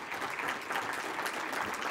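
A short burst of audience applause at a USHCC gathering, a dense patter of many hands clapping at moderate distance, steady for under two seconds.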